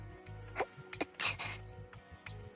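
A female character in Zenless Zone Zero sneezes once, a short, fairly soft burst over quiet background music, with a few smaller breathy sounds around it.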